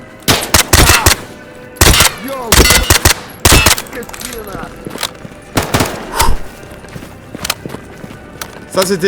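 Gunfire in the video game S.T.A.L.K.E.R. comes as loud, close bursts of rapid shots, several volleys separated by short pauses, with quieter movement sounds between them.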